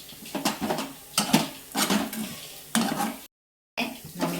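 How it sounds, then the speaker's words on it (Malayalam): Grated coconut being stirred into drumstick leaf thoran in a pan, with repeated close scraping strokes of a spoon against the metal, a soft sizzle beneath, and a brief silent gap. "അപ്പോൾ നമ്മൾ നന്നായിട്ട് ഇളക്കി മിക്സ് ചെയ്യാം"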